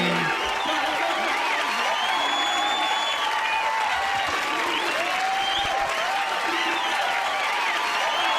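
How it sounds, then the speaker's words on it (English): Steady applause from an audience fills the whole stretch, a dense continuous patter of many hands clapping with a few faint whoops mixed in, and no single voice standing out. "Yeah, and clapping."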